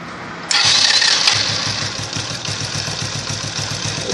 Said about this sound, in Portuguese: O somzinho do motor como ficou legal. Tá vendo aí, ó, em marcha lenta.